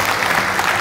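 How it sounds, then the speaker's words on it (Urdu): Audience applause at a Pakistani poetry gathering, a brief dense burst of clapping from a crowd, steady and fairly loud. "ڈاکٹر صاحب کے لیے ایک دفعہ پھر تالیاں"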